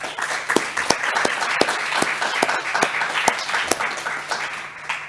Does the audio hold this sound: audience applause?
yes